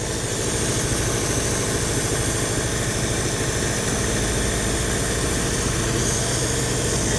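A 1955 Metropolitan car engine idles close up, a loud, steady low rumble with an even mechanical throb that runs unbroken throughout, no talking.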